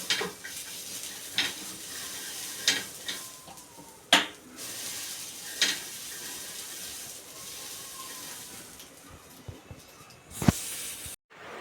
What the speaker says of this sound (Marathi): पहिल्यांदा काय करायचं आहे वाटाणा भाजून घेऊया